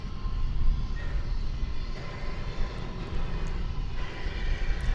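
An American Airlines Airbus A321 arriving at DFW at night gives a faint, distant, fluctuating engine rumble and hiss, brief and steady with no talking.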